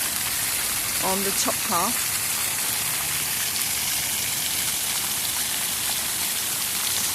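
Water flows and splashes steadily across the slanted stone of a half water fountain at Odins Plats in Gothenburg, a close, continuous rushing hiss, with a few birds chirping briefly early on and a voice speaking.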